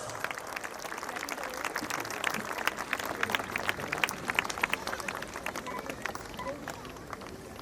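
A large audience at a school annual day applauds in a sustained, dense burst of clapping with crowd murmur, holding steady throughout.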